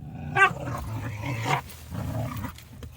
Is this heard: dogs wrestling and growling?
yes